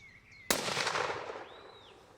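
Single 9.3x74R rifle shot on a plains-game hunt along the Zambezi, a sharp loud crack followed by a rolling echo fading across open country, with birds whistling faintly before and after.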